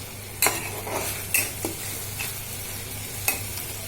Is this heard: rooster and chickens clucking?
no